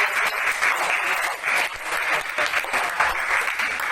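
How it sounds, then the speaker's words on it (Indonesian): A classroom group breaks into loud, continuous applause after a discussion session, a thick wash of many hands clapping at once that holds steady throughout. "mari kita berikan tepuk tangan untuk hasil diskusi"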